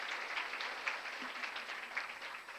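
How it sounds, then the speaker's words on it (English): An audience at a ladies' church seminar applauds in a steady, moderately distant round of clapping that holds through the whole stretch without voices. "So let's give them a round of applause."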